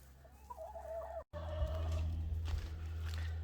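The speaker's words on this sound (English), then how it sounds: "so that's the chickens" Backyard chickens in a spring garden flock with one rooster cluck and chatter close by, a short burst of calls, a brief gap, then louder, fuller clucking, with no talking.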